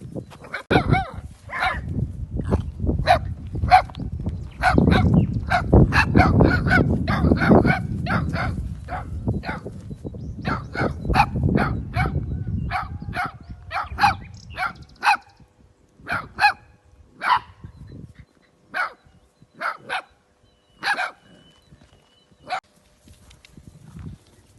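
Small dogs yap and bark while playing, giving a scatter of short, sharp barks close by, denser at first over a rumbling background, then more spaced out and isolated.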